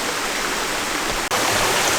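Steady rushing water pours out of an underground spring at the mouth of a shallow cave along a North Alabama hiking trail, a constant broadband wash with one brief dropout.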